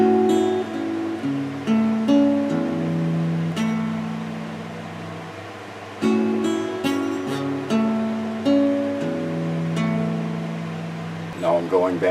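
A guitar picks out the chords of a song as plucked, arpeggiated notes, one string after another. The phrase plays through and then repeats, close and clear with no talking.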